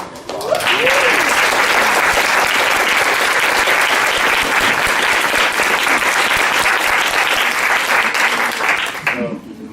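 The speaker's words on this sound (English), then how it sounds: "So I'm really just wanted to give a round of applause." A lecture-hall audience at a Columbia University teach-in gives loud, steady applause that swells quickly, holds for about nine seconds and then fades out.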